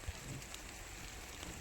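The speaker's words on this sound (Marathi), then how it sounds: "बघा किती पाऊस चालू झाला आहे" The first monsoon rain falls in a village as a faint, steady patter on surfaces, continuous and unbroken with no voices.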